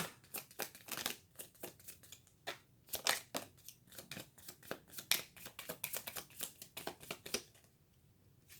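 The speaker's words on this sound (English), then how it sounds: "And so we are going to pull cards just overall Coach of the Year." Playing cards being pulled and flicked from a deck, a rapid series of crisp papery snaps and shuffling rustles, close and fairly faint, with brief pauses between bursts.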